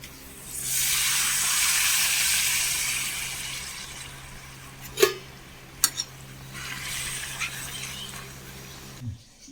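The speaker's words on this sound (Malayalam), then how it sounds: "പപ്പടം വറുത്തെടുക്കാം" Pappadam frying in hot oil for a Vishu katta breakfast, a broad steady sizzle that swells from the start, with a few sharp clatters near the end and no talking.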